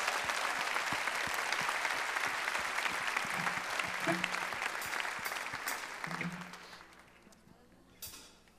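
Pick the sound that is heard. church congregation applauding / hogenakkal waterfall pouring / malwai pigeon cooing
church congregation applauding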